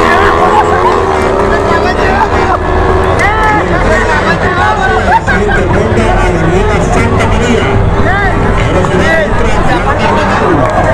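A crowd at a street drag race in Barranquilla, with a steady babble of many voices mixed with motorcycle engines droning and revving nearby.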